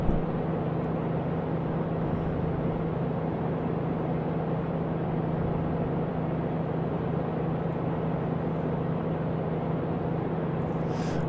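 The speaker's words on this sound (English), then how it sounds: "let me see if I can cut some engine noise here for you guys" Small airplane engine drones steadily in flight, a constant loud cockpit hum with no break or change in pitch.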